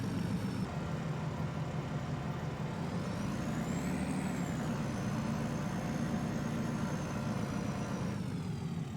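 A dump truck in Farming Simulator 25 idling and working while unloading gravel, a constant heavy engine drone with a thin high whine that rises and falls midway, alone without talk.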